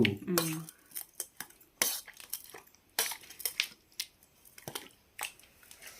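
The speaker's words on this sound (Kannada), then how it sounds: "ಟೊಮೊಟೊ ಬದನೆಕಾಯಿ ಎರಡೂ ಈಗ ಚೆನ್ನಾಗಿ ಮ್ಯಾಶ್ ಮಾಡ್ಕೋಬೇಕು." Cooked tomato and eggplant being mashed in a metal pot in a village kitchen, with a series of sharp clanking utensil strikes and scraping against the pot at an irregular pace, close and fairly loud.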